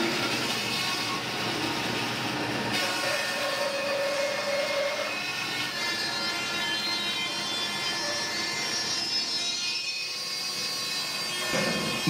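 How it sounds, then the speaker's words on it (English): Bandsaw fitted with a thick resaw blade running and cutting a bowl blank, a steady loud broadband whine and rushing hum that holds throughout with slight shifts in tone. "I'll turn on the bandsaw."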